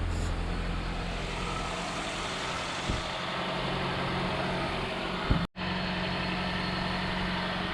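Rebuilt car engine idling steadily up close, a low continuous hum with a brief clunk and momentary dropout partway through.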